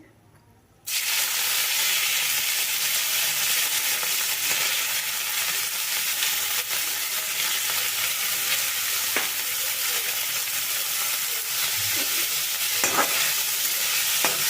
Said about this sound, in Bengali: তেলটা গরম হয়ে গেছে এখন আমি এতে অল্প কিছু মাছ দিয়ে দেবো